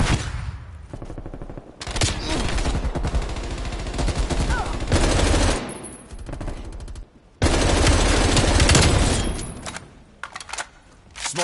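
Long bursts of automatic gunfire from hip-fire in a shooter video game, loud and close, in several sustained strings separated by short pauses, with a voice briefly heard between bursts.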